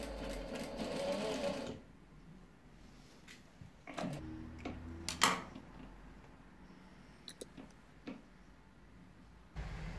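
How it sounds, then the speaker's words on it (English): A sewing machine stitches the seams of a cloth WW2 combat medic armband, a close whirring mechanical burst for the first two seconds, followed by quieter handling clicks and rustles. "And then I just sew them down."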